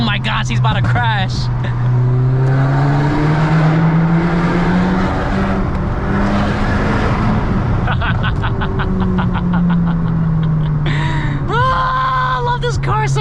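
A Volkswagen Golf MK6 accelerates hard, its engine note climbing steadily in pitch and staying loud and close throughout, with people talking and exclaiming over it.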